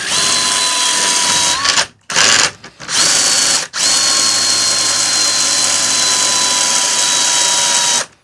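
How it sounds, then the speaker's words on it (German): A Simson Schwalbe M500 moped engine runs loud and close with a steady droning whine, a scratching noise coming from the gearbox, and two brief drops in sound near the middle. "Ja, da ist so ein kratzendes Geräusch, was man wahrnehmen kann. Das kommt definitiv getriebetechnisch irgendwo her."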